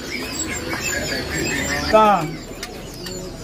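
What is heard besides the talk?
caged songbird calling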